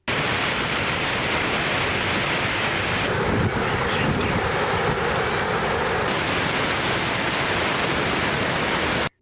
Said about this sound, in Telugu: నీరు ప్రాజెక్టుపై నుంచి పోటెత్తిన ప్రవాహం